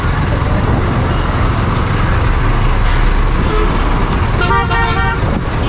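A bus on a jammed road near a market entrance lets out a sharp air-brake hiss, with horn toots sounding amid loud, continuous traffic rumble.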